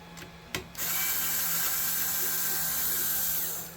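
Bolts being backed out of an Ender 3 Pro 3D printer during a teardown: a brief ratcheting burst near the start, then a steady whirring drive run that continues for several seconds at close range.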